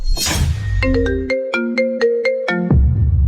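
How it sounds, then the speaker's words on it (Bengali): A phone ringtone plays a short bright electronic melody of about eight evenly spaced tonal notes, loud and clear, preceded by a brief rustle and followed by low room noise. "কোম্পানি থেকে ফোন আসছে"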